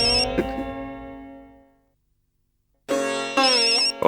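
A phone ringing on speaker, a melodic electronic ringtone that fades out, falls silent for about a second, then starts again loudly.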